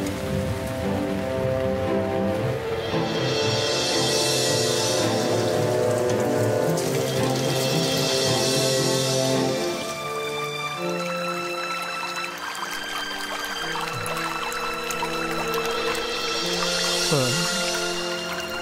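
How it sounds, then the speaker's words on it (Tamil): Rain pours steadily onto a surface in a broad, continuous wash, with drops spattering throughout; a loud, dense downpour runs across the whole stretch with no speech over it. "நம்ம வேலைய இந்த மழை கெடுத்துரும் போல இருக்கே"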